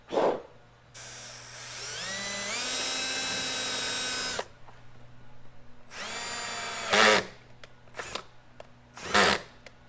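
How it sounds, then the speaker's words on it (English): A cordless drill whirs steadily for several seconds drilling a 1/2 inch hole for Sea-Doo knee pads, stops, then revs again in a few shorter bursts, loud and close. "So I'm gonna drill the other one out too."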